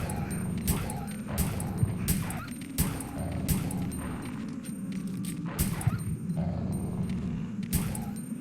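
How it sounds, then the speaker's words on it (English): Dogs bark in short, sharp bursts amid gunfire-like bangs and game noise in the 1999 PlayStation game Resident Evil 3, repeated hits spread across the scene. "Okay, so we got dogs."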